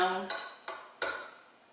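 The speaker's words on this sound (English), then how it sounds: "So just make sure you stir around" Three separate clinks of a utensil striking a bowl while stirring French meringue, each a sharp, bright knock followed by a short ring, spaced roughly evenly and close by.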